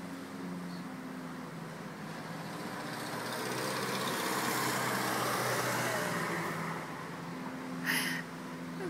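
Smoking lawn mower engine running at a distance, a faint steady drone that swells slightly in the middle, outdoors.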